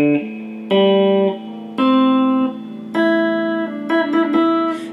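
Electric guitar notes sounded by hammer-ons without an initially picked note, distortion off: four clean, sustained tones entering one after another, each ringing briefly before the next.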